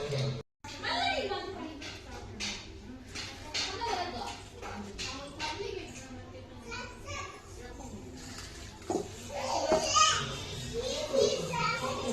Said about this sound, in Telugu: మా పక్కింట్లో పాప గోల బాగా మీకు కూడా వినిపిస్తూ ఉంది కదా ఫ్రెండ్స్